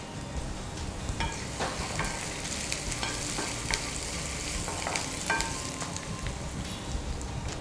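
Onions fry in a pan and are stirred until lightly browned, with salt added. Close, continuous sizzling is broken by frequent scraping stir strokes at an irregular rhythm, with no talk.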